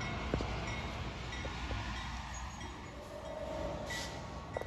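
A long BNSF freight train rolls past on the Fort Worth Subdivision in Saginaw, a steady rumbling roar of rail cars with faint wheel squeals and clanks, heard from trackside without any voices.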